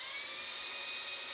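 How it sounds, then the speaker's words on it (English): A small chamfer tool deburs the inside of 3/16 brake line tubing on a 1999 Chevy 1500, giving a steady, close, high-pitched whine with no pauses for just over a second. "I'm gonna just use a little chamfer"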